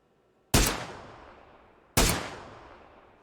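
Two sharp single gunshots about a second and a half apart in a battle royale shooter, each loud crack followed by a long fading echo tail, with no voices.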